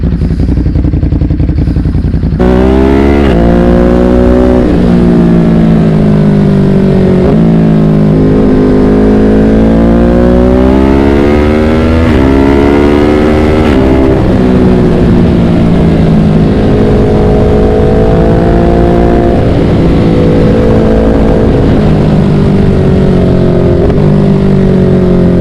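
Loud motorcycle engine revs and pulls away on a ride, its harmonic drone rising and falling through repeated throttle changes and gear shifts, close and continuous with no talk.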